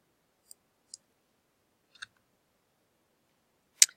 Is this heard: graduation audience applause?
no